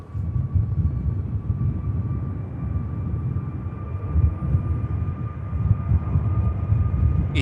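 EasyJet airliner rotating on takeoff at Manchester Airport, a low rumbling engine roar at moderate distance with a thin steady tone riding above it.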